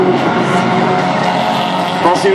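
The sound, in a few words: fol'car race cars racing and braking on track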